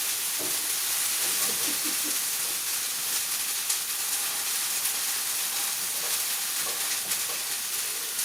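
Grilled cheese sandwich frying in a pan, a steady broadband sizzle with faint scattered pops running throughout at a constant level.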